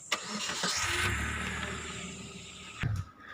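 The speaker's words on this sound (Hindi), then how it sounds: "जय जी, गाड़ी क्रॉस जा रही।" A car labors to climb a steep slope on a rough road during a Narmada Parikrama pilgrimage, its engine droning loudly and continuously with strained rumble, followed by a brief knock near the end.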